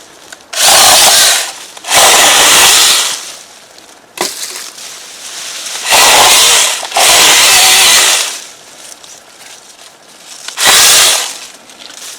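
A small chainsaw cuts tree branches in several loud, rasping bursts of a second or two each, separated by quieter gaps, close up.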